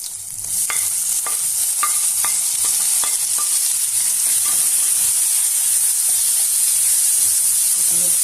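Tomatoes frying with onions and green chillies in a kadai for mushroom curry are stirred with repeated scraping strokes, heard over a loud, steady sizzle.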